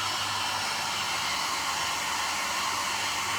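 A small handheld blow dryer runs on crackle paint, drying the glue layer beneath, a loud, steady whooshing roar held without a break from start to finish.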